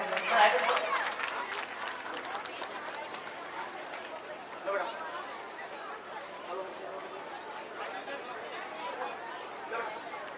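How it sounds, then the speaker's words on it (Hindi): Crowd at an Independence Day school program applauding in a hall, steady scattered clapping mixed with chatter and voices, moderately distant, fading slightly after an initial burst. "एक बार आप भी हमारे पीईओ साहब के लिए जोरदार तालियां बजाएं।"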